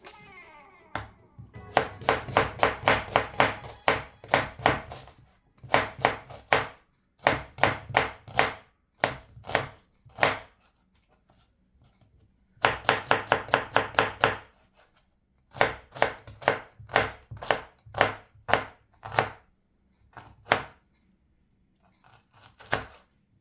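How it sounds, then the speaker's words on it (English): A knife slices onions on a cutting board in quick, crisp bursts of rapid chopping strokes, separated by short pauses, close and clear with no talking. "let's cut the onions and the green chilies first"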